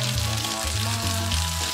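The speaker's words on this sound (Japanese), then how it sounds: "この余ったお肉も一緒に焼きます。" Leftover meat fries in sesame oil in a pan with a loud, steady sizzle and soft crackle, punctuated by low thuds and scraping as it is moved around, with no one talking.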